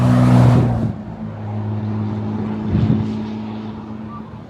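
Classic race cars, a Bentley and a BMW M3, revving at Le Mans Classic, with a loud close engine roar that fades and then swells again as another car passes.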